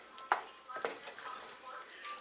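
Turkey and mushroom pie filling being stirred in a pan: two brief, quiet clinks of a utensil against the pan, then soft, faint scraping and stirring.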